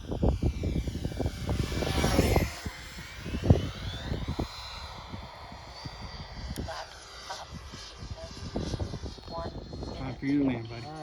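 A remote-control jet airplane flies overhead with a steady whining engine that swells and fades as it passes, heard alongside people talking nearby outdoors.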